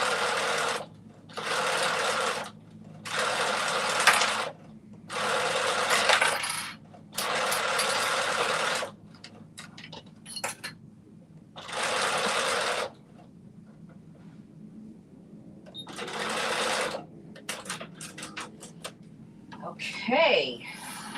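A domestic sewing machine stitches skirt pleats in a series of short, evenly loud whirring bursts separated by pauses, with quiet handling sounds in the gaps.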